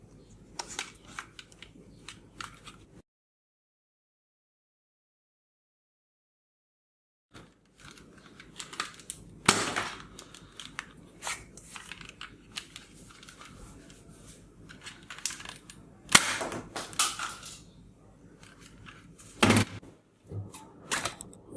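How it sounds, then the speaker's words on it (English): A red superhero toy blaster gun, heard as sharp plastic clicks and snaps with a few louder pops, interrupted by a few seconds of complete silence near the start. "Red color blaster superhero toy gun"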